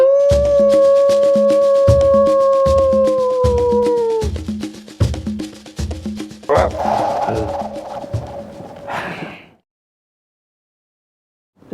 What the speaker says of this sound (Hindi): कुत्ते भौंकने लगे।